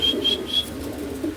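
Pigeons at a pigeon sale give soft, low cooing murmurs close by, with a few thin, high chirps over the top in a short burst and no speech.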